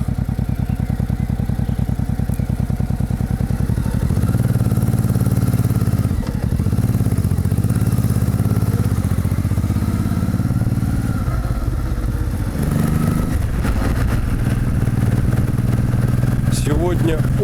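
A small motorcycle rides along a road in early spring, its engine a steady low drone with some clattering, heard close and continuous throughout.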